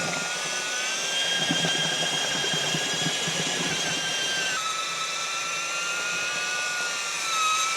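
A 1250W mixer drill runs continuously as it stirs cement mortar loosened with extra water, giving a loud, close, steady motor whine with churning texture and a slight dip in pitch partway through.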